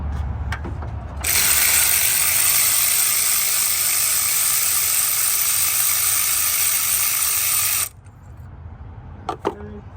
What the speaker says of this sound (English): we're going to go ahead and get a 14mm socket and pull those plugs out